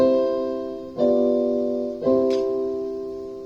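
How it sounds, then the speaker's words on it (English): An authentic cadence played as three sustained chords about a second apart, each struck cleanly and slowly fading, clear and fairly quiet. "If an authentic cadence sounds like this"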